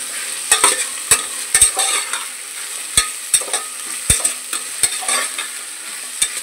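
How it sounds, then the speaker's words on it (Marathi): Onions sizzle in hot oil in a pressure cooker while a spoon stirs them, a steady frying hiss punctuated by sharp metallic scrapes and clinks at an uneven rhythm, close and fairly loud, with no talking. "आता आपण तेल तापलंय, कांदे सगळे टाकून घेणार आहोत. एकदम नीट मिक्स करून घेऊया."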